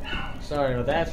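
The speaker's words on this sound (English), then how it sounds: "Oh my goodness. That's my dog." A dog in the room giving a couple of short yipping barks close by, overlapping with a voice talking.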